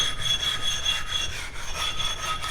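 A knife blade rubbed steadily along a Nano Hone NL4 15,000 grit sharpening stone, a soft continuous rasping stroke close up with faint high whine, no talking.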